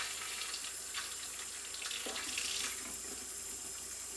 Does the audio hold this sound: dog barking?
no